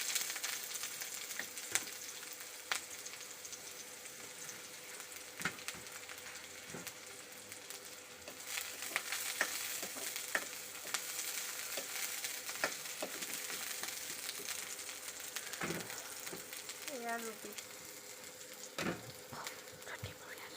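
Onions fry in hot oil with panch phoron in a pan, a steady close sizzle running throughout with occasional stirring clicks and scrapes and brief faint talk in the background.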